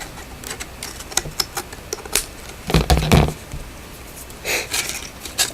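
Paper being punched and cut on an envelope punch board, a quick series of sharp clicks and snaps close up, with a louder cluster of cutting and pressing noises midway.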